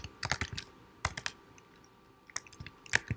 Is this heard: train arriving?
no